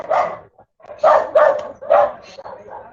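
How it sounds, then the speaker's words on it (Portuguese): Several sharp dog barks come in quick bursts at moderate distance, with short pauses between them and a faint yip in between. "Não repare no barulho dos cachorros"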